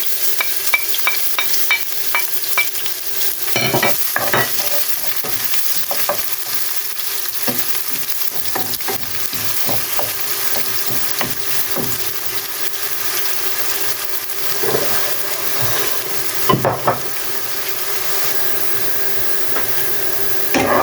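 Ginger, onion and garlic sizzle and fry steadily in a pan for chicken gizzard and liver adobo, with repeated scraping and stirring clatters from a utensil throughout, close and fairly loud, no talk.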